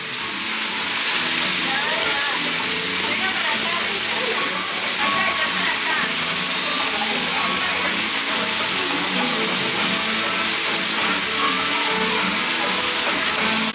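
A flowing water feature at EPCOT's Journey of Water pours in a constant, close rushing hiss, with voices faintly audible beneath it.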